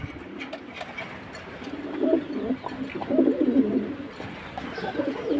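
High-flying pigeons coo softly and repeatedly at a close distance, with low throaty calls rising and falling over a faint background hum.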